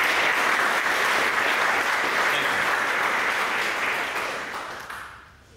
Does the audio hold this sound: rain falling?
no